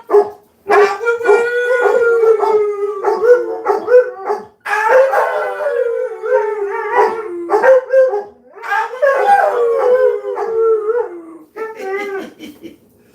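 Several dogs howl together in long, wavering, harmonic wails that rise and fall across the whole stretch, with brief breaks between bursts, loud and close.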